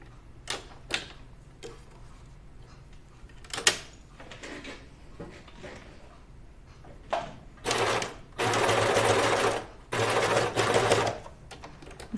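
Cover stitch sewing machine hemming a Moneta dress, several short stitching bursts separated by quiet handling clicks, then longer loud runs near the end.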